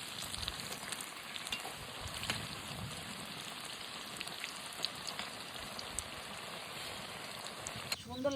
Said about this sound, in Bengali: সুন্দর লাল লাল করে ভেজে নিয়েছি, এবার তুলে নেব।